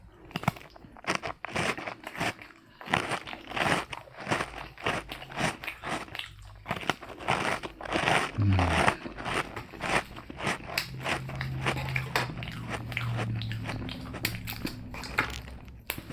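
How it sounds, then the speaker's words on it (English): Crisp crunching and chewing of a dry graham cracker, close up, with steady bites and mouth noises continuing throughout. "I'll get some eating sounds in here too"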